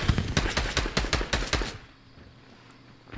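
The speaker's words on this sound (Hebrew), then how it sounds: "הנה שמעתי יריות שלו." Rapid bursts of automatic gunfire from an opponent in Fortnite ring out in quick, loud, evenly spaced shots for under two seconds, then stop and leave quiet game ambience.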